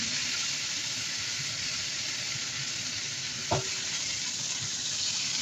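Pork belly fries in a hot pan, giving a steady, dense sizzle with scattered soft spatters. One brief, sharper pop stands out near the middle, with no talking.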